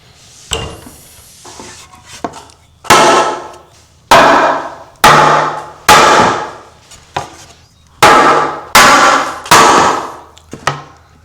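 A glued wooden miter joint is struck hard over and over, about nine loud, close knocks at irregular intervals, each ringing out briefly before the next.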